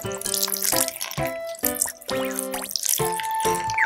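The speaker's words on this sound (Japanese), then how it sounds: "お水をかけて、" Water is poured over toy figures trapped in bubbles, in short splashing bursts separated by brief gaps, alongside bright ringing musical tones.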